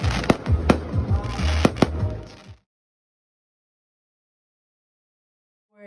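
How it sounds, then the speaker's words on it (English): Fireworks bursting at a night outing in Greece, a rapid series of sharp loud bangs and crackles over about two and a half seconds, then abrupt silence with a faint sound at the very end. "Then there were fireworks."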